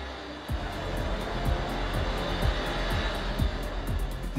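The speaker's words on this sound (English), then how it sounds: "While deafening acceleration and deceleration pervades in the test chamber" Alpina-tuned BMW engine revving on a test bench inside an enclosed test chamber, a loud sustained roar with repeated low rising surges as it accelerates and decelerates, no talking.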